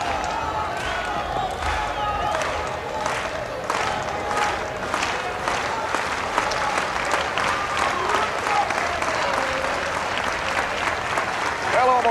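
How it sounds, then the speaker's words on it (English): A college baseball crowd at a Miami Hurricanes versus Florida State game in 1991 stands and claps steadily across the ballpark, broad sustained applause with scattered shouts and a commentator talking over it. "Almost everybody that's still in the ball yard standing now and clapping"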